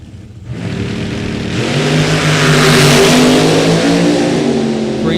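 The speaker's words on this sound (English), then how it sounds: "And it looks like it is a supercharged ride over here on the right for Tom Williams." A supercharged 632 drag race car launches from the starting line with a loud, rising engine roar that swells into a sustained high-revving blast, heard up close at a drag strip.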